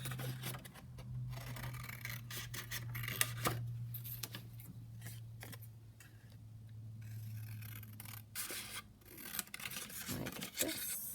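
Paper being cut with scissors to trim out a printed image of a lady for a journal pocket craft project, giving close, soft rasping snips and rustles over a steady low hum, with no talking.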